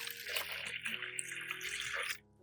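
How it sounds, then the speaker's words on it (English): Clean water poured into a large basin of salt, a steady close trickle and splash running for about two seconds before stopping. "Add clean water."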